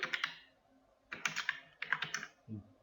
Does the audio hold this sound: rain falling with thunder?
no